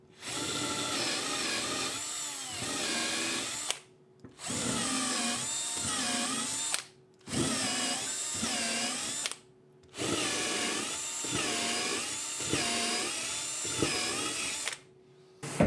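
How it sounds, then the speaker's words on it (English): A power drill fitted with a countersink bit opens up drilled holes in a bench vise plate for M8 screw clearance. It whines in four long bursts, each separated by short silences, close and loud with no talk. "A good trick for opening up holes is a countersink."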